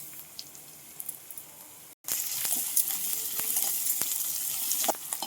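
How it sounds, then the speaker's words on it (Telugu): Onions, green chillies and curry leaves fry in a pan for a prawn curry. A loud, steady sizzle follows a brief silence, and sharp scraping clicks from stirring sound close by, with no speech. "ఇప్పుడు ఆనియన్స్ వేసుకోవాలి పచ్చిమిర్చి రెండు కొద్దిగా కరివేపాకు వేసుకున్నాక కొంచెం కలుపుకుందాం"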